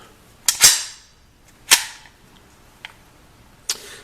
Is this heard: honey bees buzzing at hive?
no